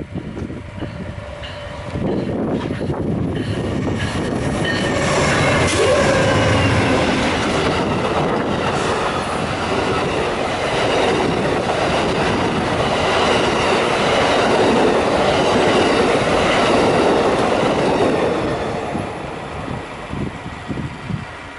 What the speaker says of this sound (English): The train appeared to be going rather slow